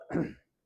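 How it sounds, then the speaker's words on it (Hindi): A single short throat-clearing cough, close and brief, then silence. "खांसी आ रही है।"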